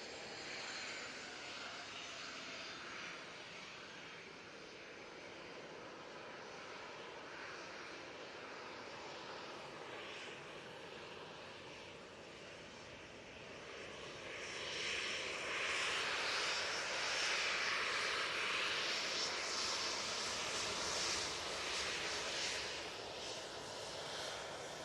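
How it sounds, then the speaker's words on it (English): Ryanair jet taxiing at Manchester Airport, a steady engine whine and rumble heard from a distance that swells louder partway through as the aircraft moves closer, with no talk over it. "Ryanair coming on via Victor Alpha now."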